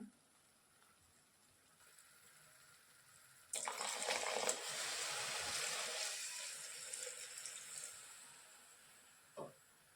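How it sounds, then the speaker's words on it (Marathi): Hot water pours steadily into pea and paneer gravy for several seconds after a quiet start, then tapers off, ending with a brief clink. "त्यानंतर आपण यात घालतोय गरम पाणी"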